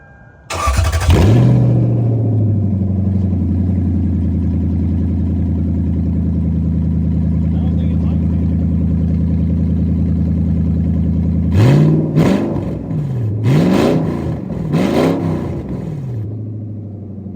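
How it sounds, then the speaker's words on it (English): Lexus LS400 V8 running with the whole exhaust removed: a loud, raw start, then a long steady idle close by, followed by a burst of several sharp revs near the end. "You can't not start it when you pull the whole exhaust off."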